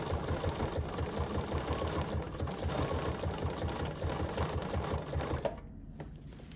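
A sewing machine does free-motion stitching on a fat quarter notepad holder, running with a fast steady mechanical chatter that is close and continuous, then cutting off abruptly near the end to a quieter hum.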